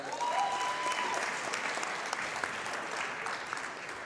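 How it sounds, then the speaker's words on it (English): At a basketball game, a crowd gives Woodside alumni a round of applause, with dense clapping that holds steady and then gradually thins out. "can we get another round of applause for that?"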